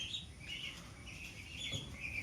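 A small flock of young Chinese ducklings, about one and a half months old, gives faint, scattered high peeps in quick bursts, heard at low level with no voices.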